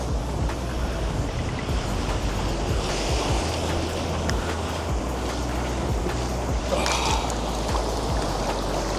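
Ocean surf breaking steadily on a beach during surf fishing, a loud continuous wash of rolling waves with wind buffeting the microphone throughout.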